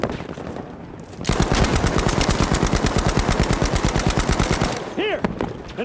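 STG assault rifle fired in Battlefield V: a loud, sustained burst of rapid automatic gunfire lasting several seconds, followed by whizzing game effects and faint talk.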